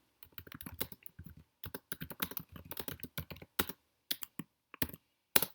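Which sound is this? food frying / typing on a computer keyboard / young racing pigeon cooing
typing on a computer keyboard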